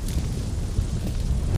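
Explosion in the open-world game City of Outlaws: a loud, dense, sustained boom with heavy low rumble, close and continuous, ending abruptly.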